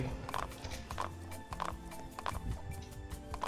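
Horse hooves clip-clop in a video game, a steady run of evenly spaced hoofbeats at moderate loudness over faint game background noise.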